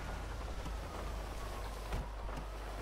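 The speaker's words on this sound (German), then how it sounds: "Guck mal hier, überall Regen." Steady rain falls continuously with a dense, even hiss and a few slightly louder splashes, with no voices.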